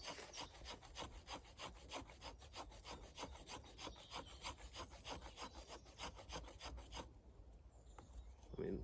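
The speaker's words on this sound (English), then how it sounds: "it's just making some nice tinder from wood. Just create some nice shavings." Spine of a Cold Steel Marauder knife scraping wood into tinder shavings: a steady run of quick, rhythmic rasping strokes close by, stopping near the end before a soft handling noise.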